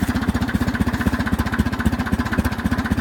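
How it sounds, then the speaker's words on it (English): An Oliver tractor engine idles steadily nearby, its fast even exhaust thumps repeating without a break and no one talking over it. "Very, very nice running tractor."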